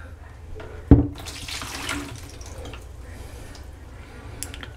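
Water poured out of a household water filter housing, a short splash onset followed by a few seconds of running, trickling liquid at close range.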